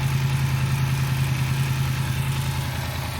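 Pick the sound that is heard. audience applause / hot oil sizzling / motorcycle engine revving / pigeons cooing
motorcycle engine revving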